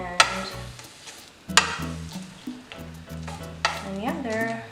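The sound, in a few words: ingredients browning and sizzling in a frying pan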